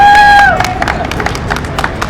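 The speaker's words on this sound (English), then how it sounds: "What about a round of applause for" Crowd applause at a beachfront on the Gold Coast during an urban mountain bike ride, a burst of clapping and cheering right after a loud fading tone, continuing steadily for about two seconds.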